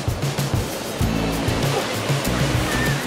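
Surf washes steadily onto a small hidden beach in Monaco on the Mediterranean coast, a continuous broadband rush with low rumbling swells and no voices.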